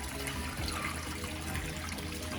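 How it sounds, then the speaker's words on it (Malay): Small landscape-shop waterfall trickling into a koi pond, a faint steady splashing and dribbling of water with no voices. "Air terjun yang saya beli di kedai landscape, kemudian saya buat sedikit piping dia."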